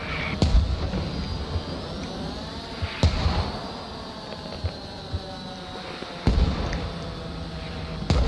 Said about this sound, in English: I'm just doing mortar barrage, dude.